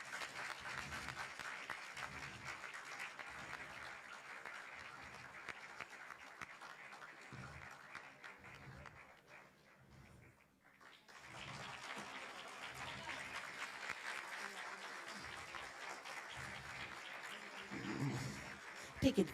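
Applause from an audience at an award presentation honouring a distinguished service recipient, steady clapping running nearly twenty seconds with a brief dip midway, low voices murmuring underneath.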